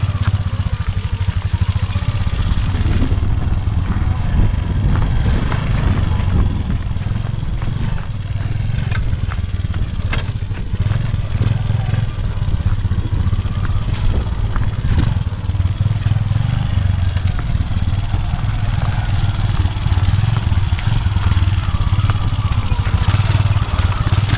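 Motorcycle ridden over a rough, bumpy road, its engine droning steadily and up close the whole way, with rattles, scrapes and jolts from the uneven surface throughout.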